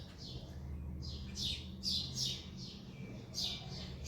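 House sparrows chirp at a birdhouse in short, bright bursts of several calls, fairly close over a low steady background hum.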